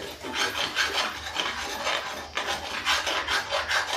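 Steady rhythmic scraping of a spoon against a pot of sabudana kheer (sago pudding), continuous and close, with a brief pause midway before the stirring resumes.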